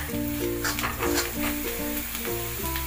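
Coriander powder sizzles as it is sautéed in a pan for Kabul chana curry, a continuous close frying hiss with stirring, under steady tonal background notes.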